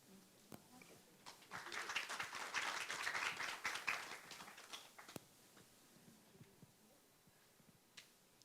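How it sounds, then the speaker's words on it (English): Applause from an audience at an energy dialogue event, a burst of hand clapping that swells to a peak, fades after several seconds and ends in a few scattered claps. "and I applaud you all."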